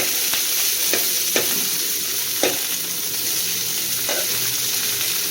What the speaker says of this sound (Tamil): வெங்காயத்தை சேர்த்துக்கலாம். இதுவும் நல்லா வந்து கலர் வர அளவுக்கு நல்லா வதங்கணும்.